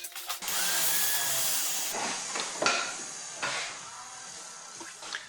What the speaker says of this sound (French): Pour équarrir mes mortaises, j'utilise un ciseau à bois de diamètre 5